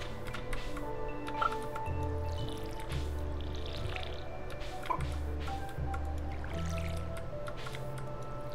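Watering crops in the Stardew Valley video game, with soft repeated splashing and dripping sounds over steady background game music.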